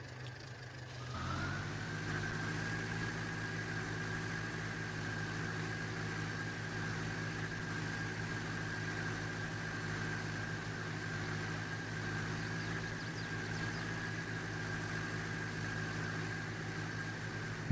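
Tractor engine in the Farming Simulator 22 game starts up and settles into a steady, droning idle that runs unchanged at a moderate level, alone with no voices.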